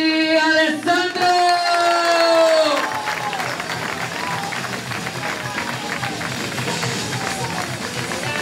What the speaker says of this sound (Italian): Applauso per l'angolo rosso dalla Pro Fighting Roma, Fratercangeli Alessandro!